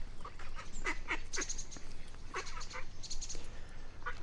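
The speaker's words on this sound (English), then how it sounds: "Even the general duck has come to look for me today." A duck quacks in a large park, giving several short, bright quacks in loose clusters over steady outdoor background noise, moderately close but not loud.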